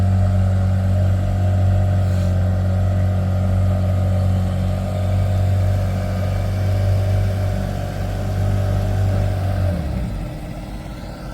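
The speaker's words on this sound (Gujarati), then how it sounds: "તો જોઈ લો મશીન ચાલુ કરી નાખ્યું છે બોટનું" A fishing boat engine runs at sea with a steady, loud mid-pitched drone and hum, then drops in pitch and fades near the end.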